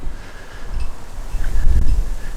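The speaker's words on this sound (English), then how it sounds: "It's rather a windy day." Blustery wind on the Mornington Peninsula coast buffets the microphone in low rumbling gusts, growing stronger toward the end, with a faint rustle in the background.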